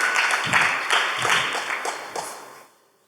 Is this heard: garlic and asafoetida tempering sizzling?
no